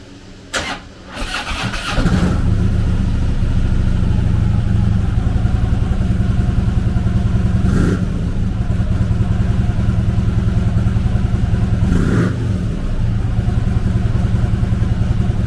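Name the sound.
Harley-Davidson Road King trike 103 cubic inch V-twin engine revving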